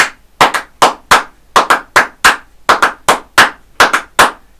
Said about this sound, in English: there's a small rhythmic pattern that we're going to clap